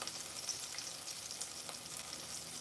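Chicken shallow frying in oil gives a steady, dense sizzle and crackle, continuous and close with no talk.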